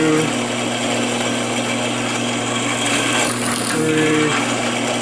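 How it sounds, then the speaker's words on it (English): A power drill whirs steadily into wood, a continuous grinding buzz that runs the whole time with no voices, close and fairly loud. "now I can just drill holes like crazy"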